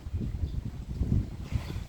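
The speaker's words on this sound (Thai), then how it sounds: "ฟังเสียงลม กันไปนะครับ" Wind blowing under trees, a steady low rumbling gust with faint rustle, buffeting the microphone, with no voices.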